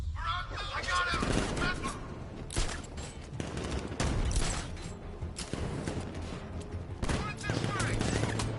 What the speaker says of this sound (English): I got him!